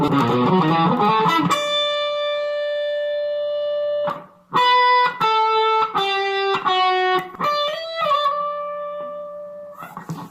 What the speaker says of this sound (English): So let's get some distortion on here.